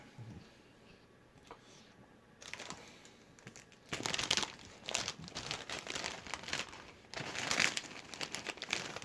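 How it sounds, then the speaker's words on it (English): Loud crunching of chips being eaten, a series of irregular crackling bursts that grow denser and louder in the second half, close to the mic with no talk. "Metal Pete eating chips as loudly as possible. Crunch, crunch, crunch, crunch"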